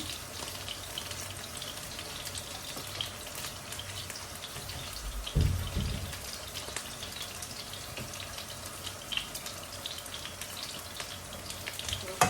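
Garlic, onion and chili sizzle in a pan, a soft continuous crackle and spatter running throughout, with one brief louder thump partway through.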